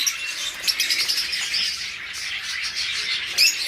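Pet budgerigars, forpus and lovebirds in a bird shop chatter with a dense, continuous layer of squawks and chirps, close and lively without pause.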